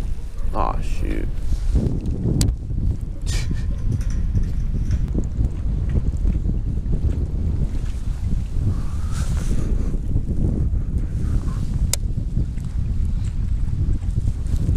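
Strong wind buffets the microphone on a bass fishing boat, a steady low roar running throughout with a few brief clanks and knocks, while people talk over it.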